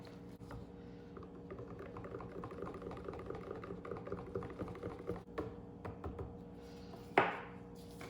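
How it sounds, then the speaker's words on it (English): Cold process soap batter being whisked in a container, a steady rapid patter of light taps continuing throughout, close and moderately quiet, with a sharper clack near the end. "I'm just gonna whisk each of these first"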